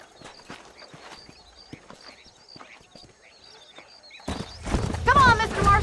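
Horse hooves clip-clopping in Red Dead Redemption, a steady walking rhythm of soft hoofbeats under quiet talk, then a louder burst of galloping, snorting and whinnying noise near the end.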